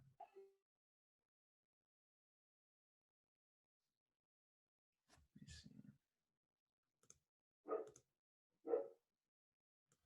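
A dog barks outside a window, two short distinct barks near the end after a long quiet stretch, with some faint muffled thumps and clicks earlier.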